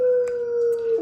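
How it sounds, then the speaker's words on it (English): Missy the dog howls in a long, sustained, wavering tone close by, with faint passing sirens in the background. "I don't know if you can hear the howling, but that's Missy."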